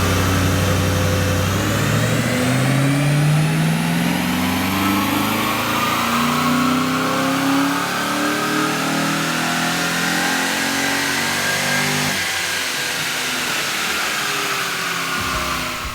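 A Ford Falcon V8 on a chassis dyno during a baseline power run, loud and close, its engine note climbing steadily through the revs in one long sustained pull before cutting off at the end.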